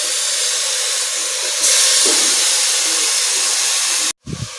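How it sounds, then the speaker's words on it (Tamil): Chicken dropped into a hot pan for a home-style chicken gravy sizzles in a steady loud hiss that swells louder midway, then cuts out briefly before a short clatter. "இப்போ நான் வந்து இதில் வந்து சிக்கன் போடுறேன்"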